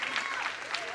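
Brief applause from an audience at an interpreters' meeting in Lima, a steady dense patter of clapping lasting about a second, with some voices mixed in.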